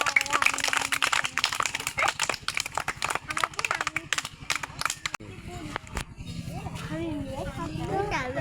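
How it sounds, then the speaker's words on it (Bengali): A group of schoolchildren claps hands in a dense, fast patter for about five seconds, then it fades into quieter scattered sounds as a voice begins singing. "সবাই হাততালি দাও"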